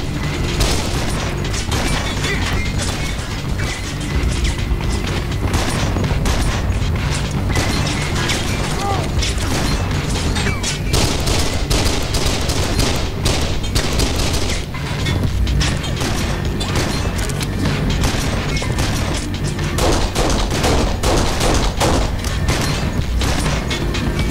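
Gunfire in the video game Kane & Lynch: Dead Men, a dense, continuous barrage of rapid shots, bangs and mechanical clatter, loud and sustained throughout with little pause.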